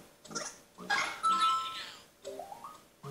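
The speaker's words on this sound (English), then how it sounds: "That's a dog." A dog's bark plays in the Big Brain Academy video game's animal identification round: a couple of short electronic barks followed by brief chiming game tones.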